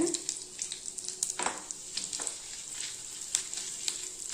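Cumin, chilies, chana dal and urad dal fry in hot oil, giving a steady close sizzle with occasional crackles and brief stirring scrapes, and no one talks.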